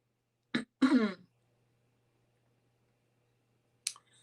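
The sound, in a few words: throat clearing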